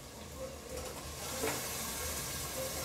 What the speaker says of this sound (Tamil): இப்போ இது கொஞ்சம் நேரம் எண்ணெயிலே நல்லா வதங்கட்டும்.